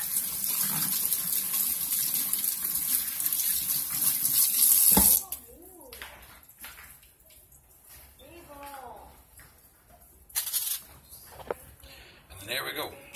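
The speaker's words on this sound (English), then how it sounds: "Let me wash my hands real quick." A kitchen tap runs steadily while hands are washed during meat preparation for pernil. The water is loud and close for about five seconds, then stops abruptly. A person talks afterward, and a brief splash of water returns later.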